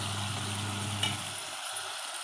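Mutton curry with tomato pieces sizzling steadily in a pan as it is stirred, a soft continuous frying hiss with a brief scrape of the spoon.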